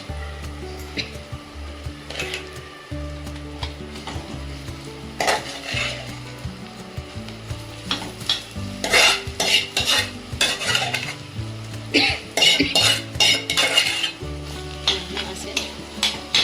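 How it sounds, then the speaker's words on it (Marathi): Mashed potato and turmeric masala being stirred and sautéed in a pan, steady sizzling frying with repeated scraping strokes of a spoon against the metal pan, growing busier and louder toward the end. "आणि ह्याला चांगलं छान असं परतून घेऊया."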